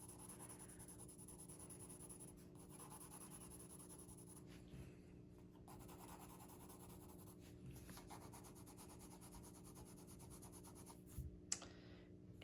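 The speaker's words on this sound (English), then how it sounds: "let's just switch to a 4B pencil so you guys see what happens when I use a darker or a softer pencil still" A soft 4B graphite pencil drawing on paper, giving a quiet, steady scratchy rubbing that runs throughout with brief pauses, close and faint, with no talking.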